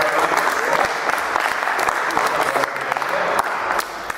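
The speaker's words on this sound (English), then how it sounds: "round of applause to both Marys" Audience applause at a cricket-themed show fills the room, a steady wash of many hands clapping for several seconds before easing slightly at the end.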